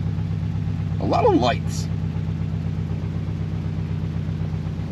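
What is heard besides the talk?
weed whacker running in background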